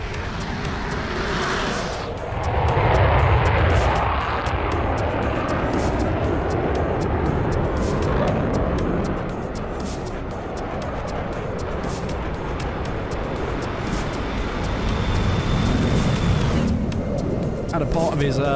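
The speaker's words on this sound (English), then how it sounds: "So we have the F-18 and the Jeff taking off first" Jet engines of an F-18 and other fighter jets, including F-16s and an F-14 Tomcat, roar steadily during takeoff in a flight simulation game, a continuous loud broadband rush with swelling peaks and a faint whine, under ongoing commentary.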